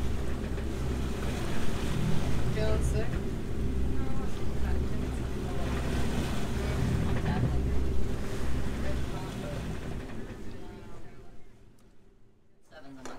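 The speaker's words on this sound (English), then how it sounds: "we're making a total of 3 knots over ground now with just the port engine" A boat's port engine, running alone, drones steadily at about 3 knots with wind buffeting the microphone and water noise around, a voice speaking briefly over it before the engine fades near the end.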